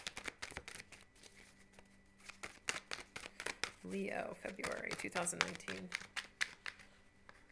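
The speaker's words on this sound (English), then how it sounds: "Trying not to shuffle the cards like right into the camera" Tarot cards being shuffled close to the microphone in bursts of soft riffling and flapping, loud and near, mixed in with a person speaking quietly throughout.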